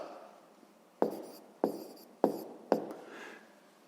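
A pen writes on paper while a sixth-grade maths exercise is worked out. Four short, distinct scratchy strokes land at about even intervals over a quiet background, with no talk.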